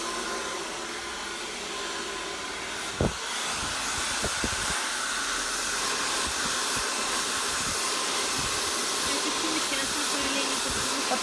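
A hair dryer blows steadily during a home layered cascade haircut on medium-length thick hair, a continuous broadband whoosh held close throughout, broken by a few faint clicks and handling knocks.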